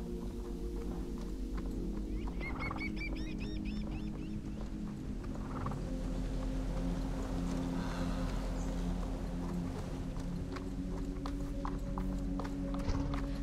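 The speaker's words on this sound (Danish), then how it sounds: "Lad os tage en lille travtur" A horse trots along a forest ride, its steady clip-clop hoofbeats close and continuous, with faint rustling and outdoor ambience around them throughout.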